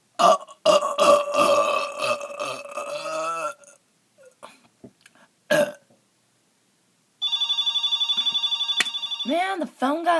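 A person lets out several long, drawn-out burps, loud and close, separated by pauses, and a telephone rings in trills near the end.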